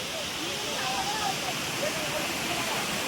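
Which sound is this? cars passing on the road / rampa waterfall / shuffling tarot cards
rampa waterfall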